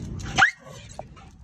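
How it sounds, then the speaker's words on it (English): A dog gives one short, sharp bark up close, followed by a faint small yip, over a quiet indoor background. "That was excessive barking."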